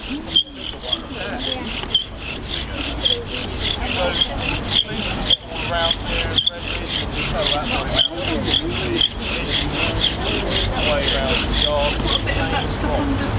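A bow drill rubs back and forth on wood to make a friction fire, giving a steady rhythmic grinding rasp with regular strokes, close and continuous for the whole stretch.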